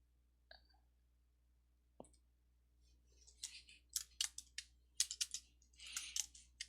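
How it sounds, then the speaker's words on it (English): A computer mouse clicked in quick runs of three, alongside light keyboard typing, all close and fairly faint in a quiet room with no speech. "Triple click in there till I get the vertical bar"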